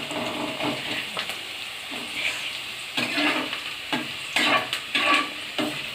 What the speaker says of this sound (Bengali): যতক্ষণ না এটা গোল্ডেন কালার আসে ততক্ষণ পিঙ্ক পিঙ্ক কালার সে ততক্ষণ এটা নাড়াচাড়া করে যেতে হবে